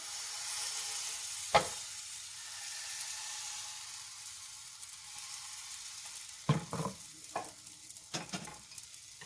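Bungeoppang batter sizzles faintly in a thin fish-shaped mold on a home stove, a steady low frying hiss broken by a few sharp clanks and scrapes of the metal mold being handled.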